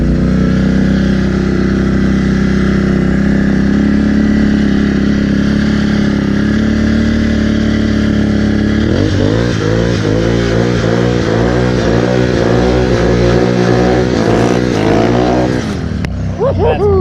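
A Can-Am Renegade 1000 ATV on Interco Interforce tires crawls over rough ground, its engine idling steadily before surging into repeated revs that rise and fall in pitch, loud and close.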